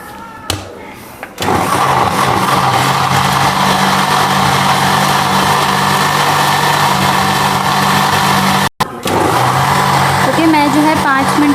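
An electric grinder runs loud and steady, churning coriander mint chutney with tamarind pulp and black salt. It whirs continuously with one brief stop near the end, then resumes.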